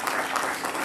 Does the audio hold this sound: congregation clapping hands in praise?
yes